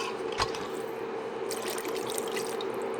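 Water poured from a jar back into a pan of lasagna sauce, a steady splashing trickle with a brief louder splash near the start, continuing alone for about three seconds.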